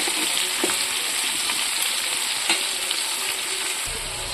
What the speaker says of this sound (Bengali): তো পেঁয়াজগুলো দিয়ে আমি ভালো করে নাড়াচাড়া করে দিয়েছি। এগুলোকে ভালো করে একটু ভাজবো।